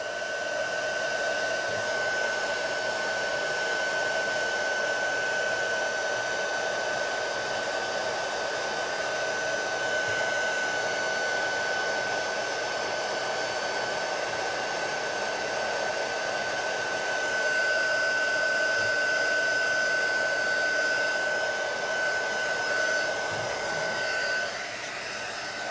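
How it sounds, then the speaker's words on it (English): A heat tool blows steadily on Stardust butter craft medium, a constant airy whoosh with a fixed whine, close and loud, running unbroken for the whole stretch with no talking. "whenever you start to apply the heat, it makes it even more pronounced."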